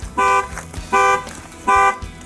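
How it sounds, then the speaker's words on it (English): Horn of a 2015 Ford Fusion Titanium sounding as an alarm, three loud, evenly spaced honks close by with no talking. "You do have to get in and actually start your car, or the horn's gonna start honking."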